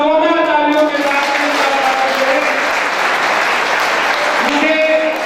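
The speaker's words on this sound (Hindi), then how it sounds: "एक बार जोरदार तालियों के साथ" An audience at a 2023 community organisation event in Fatehpur bursts into loud, sustained applause. A voice speaks over the clapping at the start and again near the end.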